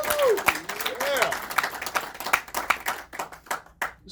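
An audience applauds with steady clapping that fades toward the end, while people talk over it.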